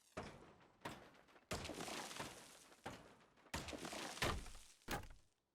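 Floor tiles are smashed apart in a house-demolition video game, with a series of sharp cracking, shattering hits separated by brief pauses, each burst crunching loudly before trailing off, heard alone without talk.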